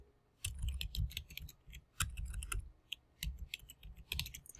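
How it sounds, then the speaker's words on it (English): Quick bursts of typing on a computer keyboard, close and fairly faint, arriving in three or four irregular flurries of key clicks separated by short pauses, with no voices. "I apparently can't type when I'm on camera."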